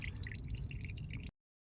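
Motor oil drips from the drain plug of a 2004 GMC Yukon in a brief, close, continuous trickle that cuts off abruptly.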